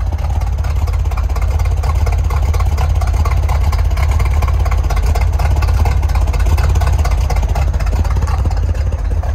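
A 1971 Corvette V8 with a four-speed manual idles with a steady, deep rumble, heard close from the rear of the car, loud and continuous with no talking.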